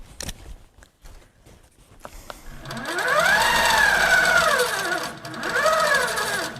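A Handi Quilter longarm quilting machine stitches a quilt: a few quiet clicks and a pause, then a loud rapid whirring run of stitches that rises and falls in speed, stops briefly, and starts again.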